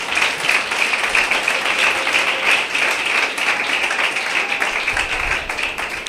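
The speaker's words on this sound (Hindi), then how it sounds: "फिर यीशु मसीह के लिए जोरदार तालियां बजाएं।" A church congregation claps loudly and continuously for several seconds during a sermon, a dense steady wash of hands with a faint voice underneath.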